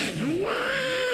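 A performer's voice imitates a cat's changed, rising-and-falling cry as another cat arrives, a single wavering yowl delivered close on a comedy stage.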